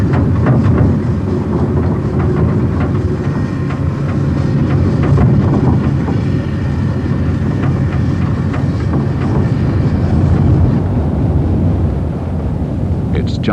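Train halted at Cook on the treeless Nullarbor plain in 1970, a loud, steady low rumble with faint clattering and wind buffeting the microphone throughout.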